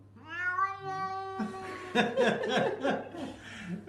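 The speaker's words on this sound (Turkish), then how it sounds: "o hayvan bayağı miyav diyor" A cat gives a long meow, followed by someone laughing and making other vocal sounds nearby.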